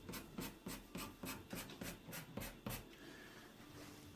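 A pencil shades a cut mark on a kitchen countertop being fitted into an alcove: quiet rhythmic scratchy strokes, about ten back-and-forth rubs at a steady pace, close and soft with no voices.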